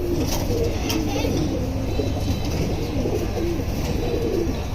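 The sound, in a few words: Silver Line pigeons cooing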